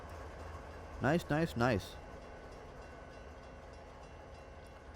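A GEVO and SD40-2 diesel locomotive consist in Train Simulator 2020 gives a low, constant engine rumble beneath a man's brief spoken remarks, holding at an even, moderate level throughout.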